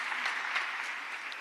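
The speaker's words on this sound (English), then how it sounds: "Give yourselves a round of applause" A brief burst of applause from staff at the Office of the Prime Minister of Trinidad and Tobago, soft and steady clapping throughout with no voice over it.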